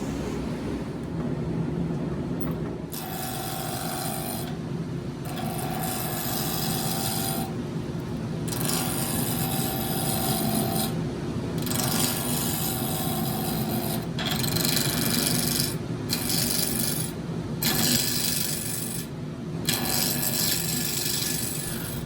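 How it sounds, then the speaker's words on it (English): Gouge cutting a cholla cactus and resin blank spinning on a lathe, a steady close rasping scrape in repeated passes lasting several seconds each, over a constant motor hum. "So I roughed the blanks down with a spindle roughing gouge, and then I switched over to a bowl gouge"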